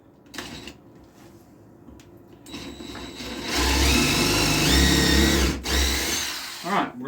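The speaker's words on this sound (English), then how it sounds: "I'm just going to go ahead and drill all three of these" A power drill whirs in a sustained burst for a few seconds, then stops abruptly and briefly restarts, preceded by quieter handling noise.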